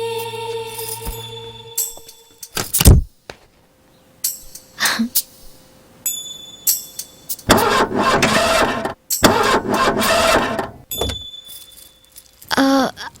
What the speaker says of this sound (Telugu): బట్ సడన్ గా కార్ స్టార్ట్ అవ్వలేదండి